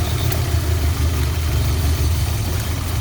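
A cold Volkswagen MK2 GTI engine runs with no choke connected, holding a loud, steady, rumbling idle that stays close and even throughout.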